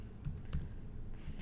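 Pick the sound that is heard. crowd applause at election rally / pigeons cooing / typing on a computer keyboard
typing on a computer keyboard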